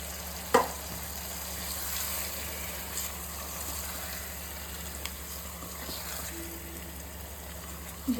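Marinated chicken with green chilies hits hot oil seasoned with turmeric and chili powder for a Kolkata-style biryani, giving a steady, soft sizzle throughout with a few faint clicks and knocks.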